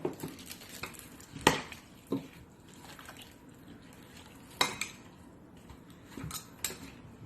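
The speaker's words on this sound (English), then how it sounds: "And stir it a little bit more" A spoon stirs sauce in a pot, giving scattered clinks and scrapes against the metal with soft wet sloshing between them, fairly quiet and irregular, with no voices.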